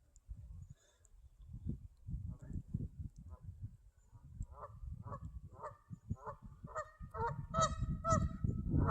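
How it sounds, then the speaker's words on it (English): Two geese honk repeatedly from a riverbank during a kayak float, nasal calls growing closer and louder toward the end over low water and wind rumble. "Maybe the same 2 geese."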